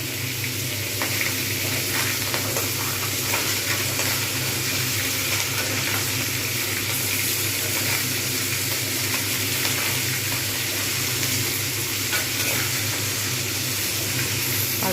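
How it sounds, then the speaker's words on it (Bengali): Rohu fish heads frying in hot oil over a medium-high flame, a dense continuous sizzle close by with frequent sharp pops and spatters, no talking. "মাঝে মধ্যেই ফাটতে শুরু করেছে মিডিয়াম হাই ফ্লেমে রয়েছে"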